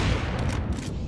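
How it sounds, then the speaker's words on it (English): A flashbang grenade goes off in the Hydro video game playtest, a dense, loud burst of harsh noise filling the whole brief moment with no voices. "Flashbang. Throwing grenade."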